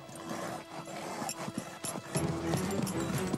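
Hugo the horse moving in a riding setting, a series of soft hoof thuds at an uneven pace, moderately close, over a low background hum.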